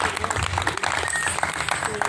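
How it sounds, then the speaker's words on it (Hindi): Audience at a poetry recital in Raipur, Chhattisgarh, clapping steadily for about two seconds, the dense patter of hands continuous and fairly loud, with some voices mixed in. "सब तालियां बजाइए एक बार।"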